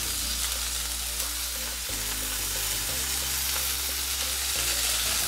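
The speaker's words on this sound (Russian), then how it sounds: "Вот этот стейк, который 2 минуты жарим, я переворачиваю." Steady, close sizzling and crackling of steak frying in a hot pan, continuous and loud, with a low hum underneath.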